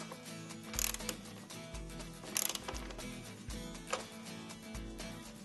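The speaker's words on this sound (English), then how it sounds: "Finger tighten, and then continue to tighten with your socket." Ratcheting socket wrench tightens a QuickLIFT hood insert on a 2005-14 Ford Mustang, giving several bursts of close mechanical clicking with brief pauses and faint metallic handling between them.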